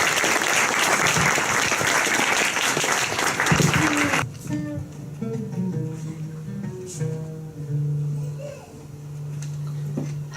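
Audience applauding fills the room loudly for about four seconds, then stops abruptly as a sustained sung or instrumental tone begins and carries on alone.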